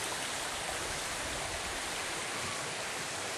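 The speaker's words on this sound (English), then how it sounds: "Listen for the sound of the creek, you always know where you're at." A forest creek flows steadily, its broadband rushing wash continuous and unchanging with no voices or other sounds over it.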